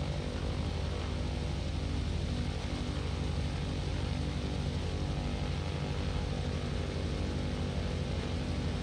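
Propeller plane engine in Kerbal Space Program, modeled on an F4F Wildcat, droning in a steady, unbroken hum with a buzzing airscrew tone, moderately loud and alone throughout.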